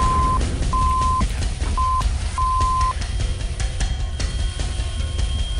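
A censor beep cuts over swearing in a game, sounding as four steady, evenly pitched tones of varying length, each broken by short gaps, over a loud, constant rumble of engine-like background noise.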